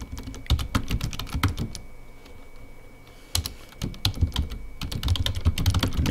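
Quick, crisp keystrokes on a computer keyboard as an annotation is typed into SSIS software, coming in close bursts with a short pause in the middle.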